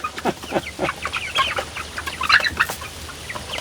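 Chickens clucking in a greenhouse, a quick run of close, irregular clucks and short squawks with no talking.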